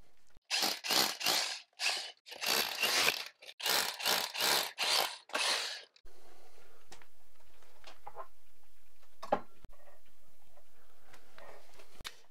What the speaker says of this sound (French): on va commencer à percer pour mettre les colliers et les fixations